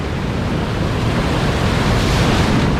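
Sea waves at Praia da Ursa beach in Portugal roll in as a loud, continuous broadband surf roar, rushing close by with some wind buffeting, and no voices.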